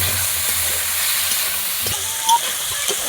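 Cut potatoes frying in spiced oil give a steady, loud, broadband sizzle that holds throughout, with a few faint clinks beneath.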